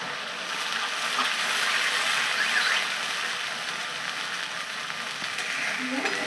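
Onion and garlic paste sautéing in a pan gives a steady, close, even sizzle that holds throughout with only slight swells in loudness.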